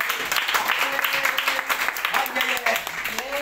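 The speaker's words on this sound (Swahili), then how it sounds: "Mupe Bwana Yesu makofi." Applause from a church congregation during a Swahili sermon, a dense, steady patter of clapping filling the clip, mixed with voices and crowd noise.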